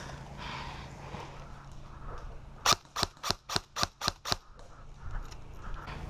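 Airsoft gun shots crack in a rapid run of about seven sharp snaps at a distance during outdoor play at Picasso Lake, rising over a quiet background of wind and rustling.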